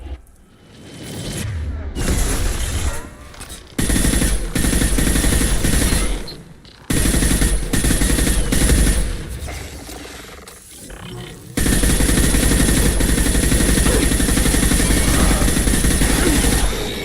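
Video-game combat in Mass Effect 2 brings loud, sustained automatic gunfire in several long bursts separated by brief pauses, with rapid rattling shots close by and the final burst the most continuous.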